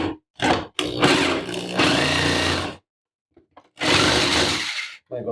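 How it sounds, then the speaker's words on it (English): A jigsaw cuts in loud, buzzing bursts, running about two seconds, pausing in near silence, then starting again for another stretch, close by. "So here we go with the jigsaw."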